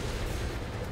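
A loud explosion in Call of Duty: Modern Warfare roars as one dense, rumbling blast of deep boom and broad crackle that fills the whole second without a break.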